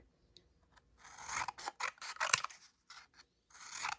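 Scissors snip through strips of black paper for a recycled-material honeybee craft, with a run of close, raspy cuts that come in quick bursts and short pauses.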